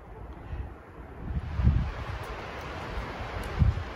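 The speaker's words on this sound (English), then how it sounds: "Kind of a blustery, blowy day up here today in the valley on the hill." Wind blowing across a hilltop on a blustery day, a steady rushing roar with low buffeting gusts hitting the microphone, and no voices.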